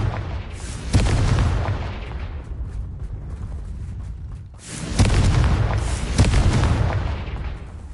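Confringo spell blasts in the Hogwarts Legacy video game: two loud, booming fiery explosions, one near the start and a bigger one midway, each with a sharp crack and rumbling decay, with no talk over them.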